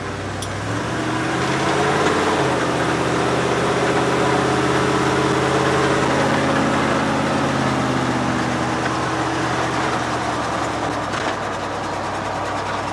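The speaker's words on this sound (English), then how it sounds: "She's got pretty good acceleration for a truck this size." A 1979 Dodge D150 Power Wagon 4x4 truck engine pulls loud and close, its droning rumble climbing and falling in pitch through the gears as the truck accelerates.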